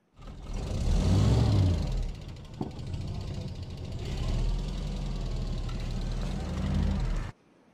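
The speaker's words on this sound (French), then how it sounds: "Et bah apparemment, j'ai le moteur qui claque." A VW Passat G60 engine suspected of worn connecting rod bearings runs with a loud, steady mechanical rumble and repetitive knocking, holding near the microphone for several seconds before cutting off abruptly.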